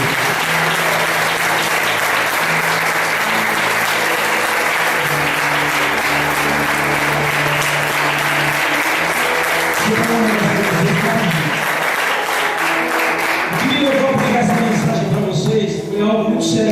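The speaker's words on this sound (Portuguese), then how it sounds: "Dê uma salva de palmas para Deus" Loud, sustained congregation applause at a church service, dense clapping throughout with a voice speaking and some tonal sound underneath, rising into a mix of voices near the end.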